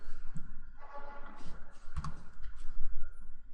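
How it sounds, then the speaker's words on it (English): Small silent computer keyboard being typed on, producing soft, irregular muted clicks and taps close by, steady but quiet, with no talking. "I just got a silent keyboard today, so it might be a little slow since it's a lot smaller than my regular keyboard."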